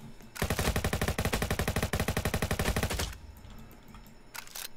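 Rapid automatic gunfire from a weapon in the Roblox Jailbreak video game, a loud sustained burst of evenly spaced shots lasting nearly three seconds, then a short pause and a brief final burst, with no talking.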